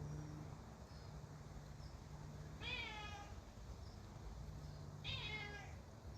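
A pet cat meows twice, a few seconds apart, each a short clear meow at moderate distance over a steady low room hum; no talking.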